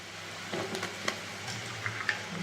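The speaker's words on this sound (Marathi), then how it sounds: "आता यात मी हे कापून ठेवलेले बटाटे टाकते" Cut potato pieces dropped into a pot of boiling water for a potato curry: quiet, steady bubbling with a few soft splashes and clinks scattered through.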